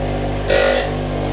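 Bench grinding wheel briefly shaping the flat tip of an engraving graver, a short bright hiss rising over a steady motor hum and fading after about a third of a second.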